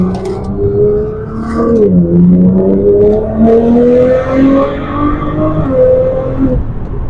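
A stage 4.25 tuned 740 bhp Nissan R35 GT-R engine accelerates and revs hard, its loud, close, steadily rising drone dipping briefly between gears before climbing again, with no voices over it.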